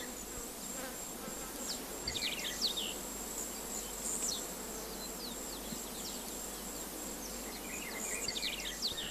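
A Centris collaris bee buzzes while gathering oil from a flower with her fore and middle legs, a continuous close insect drone with wavering pitch and brief louder swells, set against a steady outdoor hiss.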